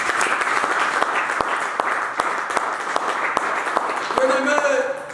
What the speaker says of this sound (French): Est-ce que tu peux acclamer Jésus-Christ?